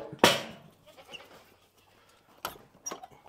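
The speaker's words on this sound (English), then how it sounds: "Having the goats come in here, they'll just attack this feed." Goats bleat on a farm at feeding time: one loud, close bleat at the start, then two shorter calls near the end, with quiet shuffling in between.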